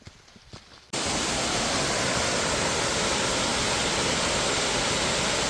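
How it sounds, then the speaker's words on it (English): Waterfall on Tioman Island in Malaysia roars up abruptly as a loud, steady broadband rush after a quieter opening second, holding constant and close with no voices. "along the way, is a waterfall"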